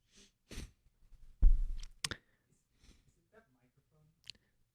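A sudden, forceful sneeze bursts out close by, followed by a couple of faint sharp clicks and quiet stillness.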